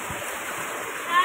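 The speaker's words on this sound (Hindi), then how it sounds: "तो ये आप देख सकते हो ज़बरदस्त पानी," Strong natural stream rushing at a nature spot in Doda, Jammu and Kashmir, a steady loud broadband roar of flowing water that swells slightly near the end, with faint voices in the background.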